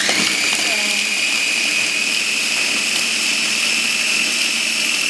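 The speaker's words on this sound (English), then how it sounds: "here's a food processor, and I have the chilies, the garlic that I just sauteed a little, and then the cilantro or coriander in here" A food processor whirs steadily and loud, blending chilies, lightly sautéed garlic and cilantro into a fine paste, a continuous high motor whine with no pauses.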